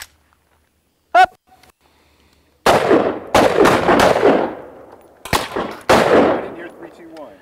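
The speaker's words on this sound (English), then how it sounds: "Everybody started shooting, so I didn't want to try to talk over it." Carbines fire at a shooting class: one sharp shot, a pause, then a loud run of close, overlapping shots from several rifles, each cracking and echoing briefly.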